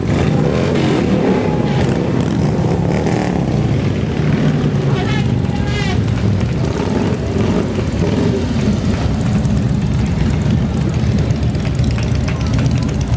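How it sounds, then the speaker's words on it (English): Motorcycles of a military veterans' motorcycle club ride past in a Veterans Day parade in Stuart, making a continuous loud engine rumble with crowd noise and voices mixed in. "These are nice motorcycles."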